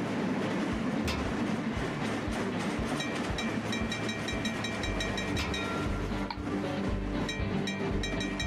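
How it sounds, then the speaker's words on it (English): A train passes in the rail simulator game Trainz, with a loud, steady rumble of railcars rolling by and clattering wheels over the whole stretch, with no talk. "I have to let the yellow train pass through first"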